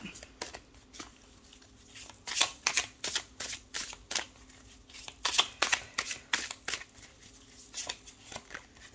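A deck of tarot cards is shuffled by hand in a quiet room, producing a string of quick papery riffles and slaps that cluster into louder bursts midway, with softer card rustles between them.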